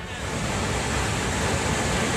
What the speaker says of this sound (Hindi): पुल के बहने के बाद जो पानी की रफ्तार है वो डराने वाली है।